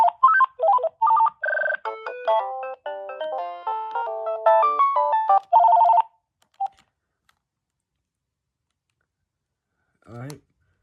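A Vtech CS6829-2 DECT 6.0 cordless phone plays a loud, close electronic ringtone: a bright, rapid melodic tune lasting about six seconds, followed by silence and a short voice near the end.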